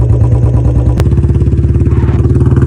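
Bullet motorcycle fitted with an aftermarket silencer, its engine thumping in a steady, loud, even beat close by, with no talk over it.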